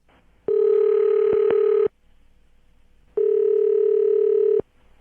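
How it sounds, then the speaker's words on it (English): A phone line rings out after a number is dialed: two long, steady ring tones separated by a pause of near silence, clean and close with no talking. "I'm going to dial his phone number"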